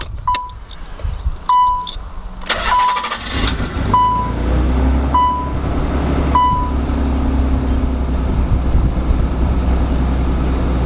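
A repaired car engine cranks and catches after several short warning chimes, then settles into a steady, even idle that runs to the end.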